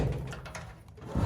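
A drawer on a slate gray US General 30-inch mechanic's tool cart from Harbor Freight slides open or shut with a brief metallic rolling rumble, close by and fairly loud, no talk over it.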